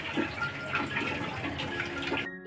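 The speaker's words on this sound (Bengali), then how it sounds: "মা দেখো জল পড়ছে, ভালো করে শাক ধুচ্ছে" Water pours steadily from a tap as leafy greens are washed clean of soil, a close, continuous splashing gush in a home kitchen.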